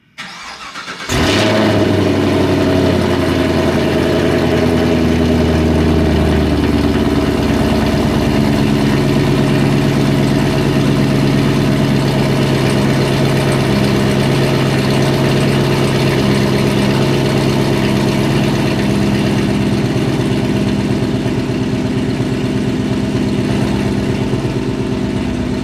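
A Chevrolet Camaro SS 1LE V8 fitted with headers, exhaust valves open, fires up from a cold start with a sharp burst, then settles into a loud, steady, rumbling high idle that slowly eases lower, heard alone outdoors.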